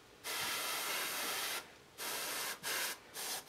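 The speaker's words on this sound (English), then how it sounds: "some of the yellow's coming back out of the airbrush now" An airbrush sprays a fine mist of yellow paint onto a figure's hair, close steady hissing bursts: one long spray, then several shorter pulses with brief gaps.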